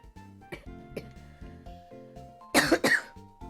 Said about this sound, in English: I've been coughing less today, I swear.